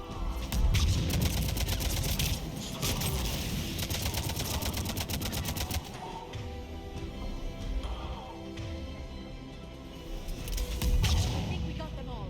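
Heavy sustained gunfire against Cerberus turrets in Mass Effect 3, rapid automatic bursts dominating the opening seconds, then thinning to a lower battle rumble before another loud burst near the end.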